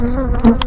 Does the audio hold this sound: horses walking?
no